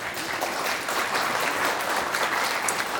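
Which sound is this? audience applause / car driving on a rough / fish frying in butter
audience applause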